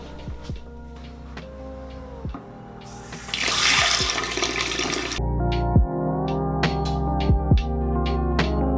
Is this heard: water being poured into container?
yes